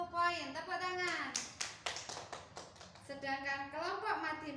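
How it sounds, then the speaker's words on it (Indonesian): Children in a classroom clap for a group's points during a teaching game, a brief burst of hand claps in the middle surrounded by voices. "Tepuk tangan"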